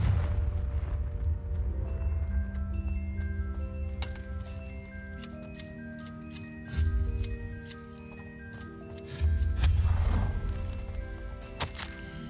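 The Confringo blasting curse going off in Hogwarts Legacy, with a deep boom near seven seconds and a second near nine to ten seconds, over steady game music and sustained tones.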